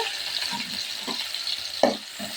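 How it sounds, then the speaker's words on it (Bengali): Chopped onions fry in hot oil with a continuous bright sizzle, while a spoon stirs them in a few soft scrapes and one sharper knock near the end; close and alone. "পেঁয়াজগুলো হালকা একটু নরম বাদামি কালার করে নিব"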